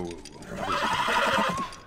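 A horse whinnies in The Last of Us video game, one rising, quavering neigh lasting about a second, close and clear, with faint hoof and ambient noise around it and a voice nearby.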